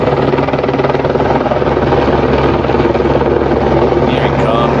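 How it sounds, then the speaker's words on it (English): Firefighting helicopter flying overhead while dropping water on a fire, loud steady rotor thumping with a constant whine throughout, close by. "we got a helicopter who's been dumping on our spot"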